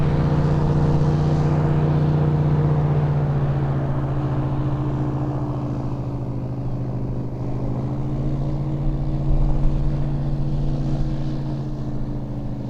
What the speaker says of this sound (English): It's a really loud boat.